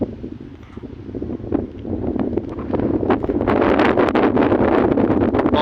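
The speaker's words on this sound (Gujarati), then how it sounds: "પવનના સુસવાટા ને એવું બધું સંભળાય" Gusting wind sweeps across open farm fields during sowing preparations, buffeting the microphone with a low, rumbling roar that builds and grows steadily louder and denser over the few seconds, with no one speaking.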